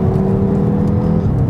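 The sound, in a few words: Audi RS Q3 engine revving while driving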